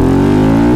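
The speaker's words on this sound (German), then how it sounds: "Geiler Sound. Schöner Einzylinder. Ah, Viertakt. Knallt richtig, richtiges Brab." A single-cylinder four-stroke motorcycle on a Euro 3 exhaust with a dB-killer fitted drones loudly and close up in a steady, throaty tone that dips slightly at the end as it is shifted down.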